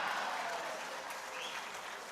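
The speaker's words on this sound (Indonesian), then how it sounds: "sedikit-sedikit tepuk tangan. Tepuk tangannya keras lagi." Audience clapping at a political speech by Prabowo at the LDII national working meeting, a dense, steady wash of many hands, loud and close, with no voices over it.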